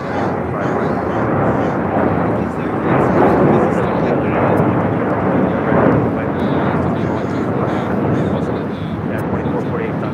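An airliner takes off from runway 25 right at LAX, giving a loud, continuous broadband jet roar that swells and rumbles steadily throughout.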